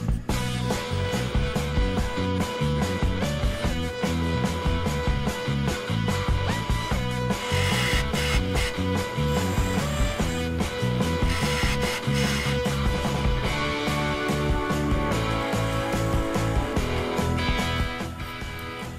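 Bone guitar nut being filed and ground to shape by hand, giving dense, continuous rasping strokes that repeat steadily and close up, with no talking.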